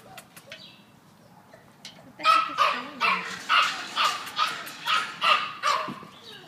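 Pit bulls at an animal shelter bark in a steady series of about eight loud, close barks after a couple of quieter seconds with faint yips.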